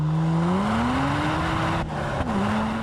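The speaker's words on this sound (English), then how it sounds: "Let's brake again and heel and toe, unnecessarily." A manual sports car braking with a heel-and-toe downshift: a steady engine drone under the cabin's wind and road noise, its pitch rising as revs are blipped and then easing down again, loud and continuous, with no talk.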